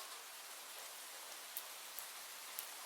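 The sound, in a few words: rain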